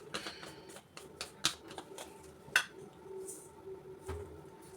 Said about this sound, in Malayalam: ആദ്യം കുറച്ച് കടുക് ചേർക്കണം